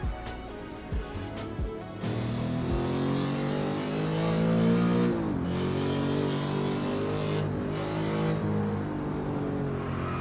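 A racing car engine in the video game Assetto Corsa roars and revs up and down through gear changes, loud and continuous, with a few sharp clicks at the start.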